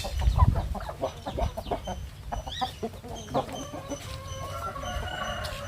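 Country chickens on a farm cluck and squawk nearby in a busy, continuous chorus, with a few sharper calls rising above the rest.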